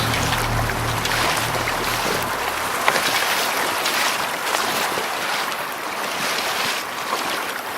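Choppy water slaps and sloshes around a Riot Mako12 kayak out on cold open water in light wind, a loud, close, continuous wash with no speech.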